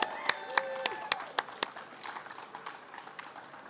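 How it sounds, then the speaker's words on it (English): A small audience at a bass fishing event claps for a guest, a handful of sharp, distinct claps at first that thin into lighter scattered clapping, with faint background voices. "Give him a round of applause"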